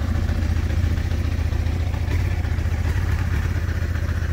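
A new motorcycle engine runs steadily throughout, with a loud, continuous low idle rumble and light mechanical clatter, close by and with no voices.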